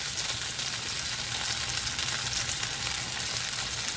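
Boiled dumplings lightly frying in a hot pan make a steady, even sizzle and crackle throughout, close and constant with no talking.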